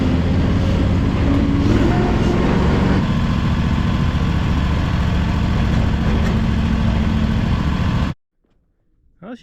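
A Fland FL45 wheel loader engine drives along in first gear, a close, loud, steady diesel drone with a rough rumbling undertone that holds for about eight seconds before stopping suddenly.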